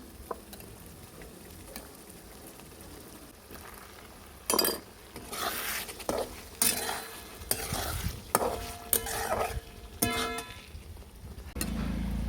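Drumstick pods are tipped into masala frying in oil and stirred in, with a soft sizzle throughout and then loud bursts of scraping, clinking and rattling from the spoon and pan.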